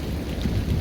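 Heavy rain pours down steadily during a thunderstorm, with deep thunder rumbling close by and filling the low end.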